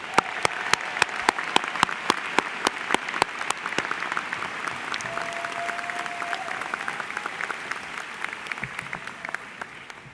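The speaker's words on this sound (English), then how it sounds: "One more round of applause for our graduates." Applause from the audience at Columbian College of Arts and Sciences' 2018 master's graduation ceremony at George Washington University. The clapping is steady and sustained, with sharp individual claps standing out, and fades slightly toward the end.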